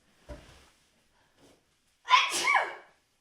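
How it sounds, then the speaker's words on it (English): A single loud sneeze bursts out after a couple of faint breaths and small sounds, close and forceful, then fades. "I'm getting ready to sneeze."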